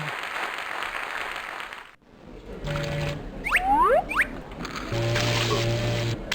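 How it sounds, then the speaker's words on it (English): Video game applause in Freddi Fish 3: bursts of dense clapping come and go, broken by a brief silence, with quick sliding whistle-like tones and steady low hums between them. "Give it up, folks. Let's hear some applause."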